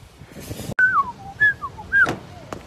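A person whistles a short sequence of three or four gliding notes close by, with rustling and faint background noise between them.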